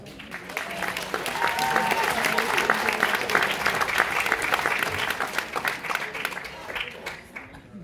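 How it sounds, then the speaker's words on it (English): A crowd at a children's dance show applauds, a dense, sustained wash of clapping that swells and then fades toward the end, with faint voices mixed in. "Can we please give him a round of applause?"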